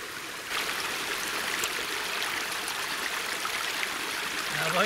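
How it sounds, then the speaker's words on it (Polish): Fast-flowing mountain stream on a slope cut by many brooks, a steady broadband rush of water that sets in after a brief quieter moment and carries on evenly at moderate level with no voices. "Strumyki płyną dosyć wartko."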